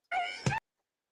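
A person imitates Miss Piggy's voice with one short, high, wailing vocal burst that sounds almost like a cat's meow, close and brief, then silence.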